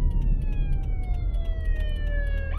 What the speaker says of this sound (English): It's a fire ambulance.